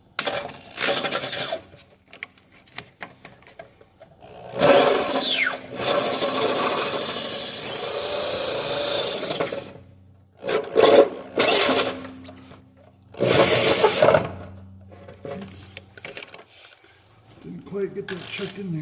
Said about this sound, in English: Hole drilling part 2.